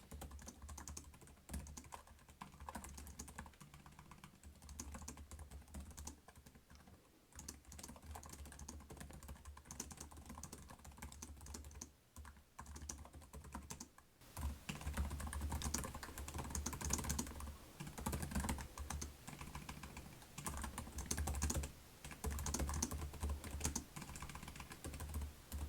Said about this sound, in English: So let's do a quick typing test.